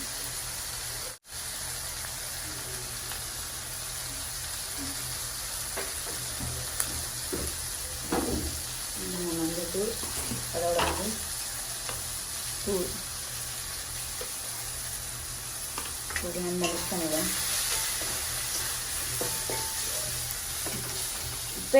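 Vegetables with salt, turmeric powder and chili powder sauté in a pan with a steady close sizzle and frying hiss, broken by intermittent stirring scrapes and clacks throughout.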